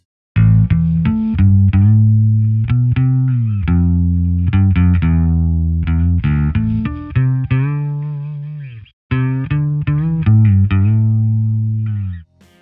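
Bass guitar run through a UAD SVT 3 Pro amp plugin, playing a clean, intimate melodic line of sustained notes with a slight chorus shimmer, mostly steady with a brief pause near the end.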